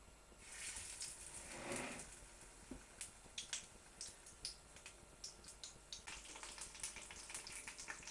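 Corned beef fritters dropped into hot oil in a pan give a soft sizzle, followed by a run of crisp pops and crackles ticking close by, fairly faint.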